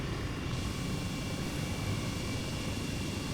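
An Airbus H135 helicopter in Flight Simulator 2020 gives a loud, steady rotor and turbine drone around Chicago that holds unbroken throughout with no talking.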